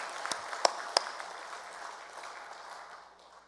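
A church congregation claps together at a founding anniversary Sunday service, a dense wash of applause with a couple of sharper claps near the start, gradually fading away over a few seconds.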